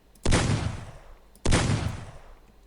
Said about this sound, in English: Here is the shotgun.